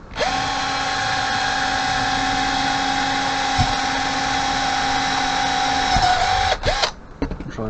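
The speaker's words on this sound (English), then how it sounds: "Just run the drill through here." A cordless drill running at a steady high whine as it bores through material, sustained for several seconds before stopping with a few brief clatters.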